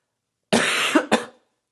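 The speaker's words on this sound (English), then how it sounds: "my throat feels kind of raw from coughing all the time" Two harsh coughs from someone with a sick, raw throat, one long rasping burst followed by a shorter one, close and loud against silence.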